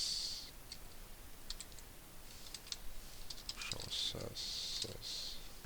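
Quiet keystrokes on a computer keyboard come in short irregular bursts of clicks, some isolated taps and some rapid runs, with nothing else heard.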